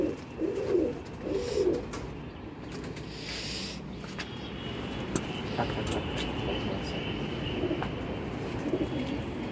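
Pigeons at a Kolkata pigeon tournament coo in a few soft, throaty bursts near the start, followed by lighter coos against ongoing background noise and faint crowd sounds.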